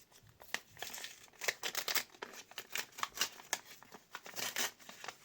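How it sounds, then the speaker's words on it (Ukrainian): Close, bursty crinkling and tearing of a paper packet, repeated rustles and rips in quick succession with no talking. "І відкриваємо сьогодні цей пакетик."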